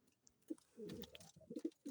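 Soft, low coos of pouter pigeons come in short bursts, a few separate notes and then a longer rolling coo, heard close with no talking.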